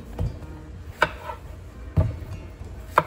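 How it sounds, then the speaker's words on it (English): A knife chops through squash on a cutting board in a home kitchen, with four firm, separate thuds about a second apart, close and fairly quiet. "now I'm going to cut up the squash"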